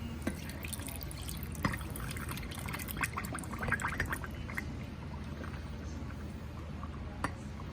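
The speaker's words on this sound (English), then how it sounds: "let's pour the solution in" Brine pours steadily into a jar of vegetables for fermented habanero hot sauce, a soft, continuous trickle and light splashing, quiet and close, with no voices.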